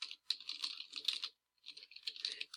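Brisk keystrokes on a computer keyboard, a dense run of clicks that pauses briefly and then resumes, close and fairly quiet with no talking.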